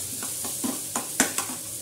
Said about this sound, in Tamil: எல்லாத்தையும் போட்டு நல்லா வதக்கிக்கணும்.